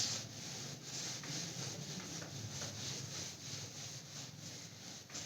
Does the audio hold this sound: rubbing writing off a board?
yes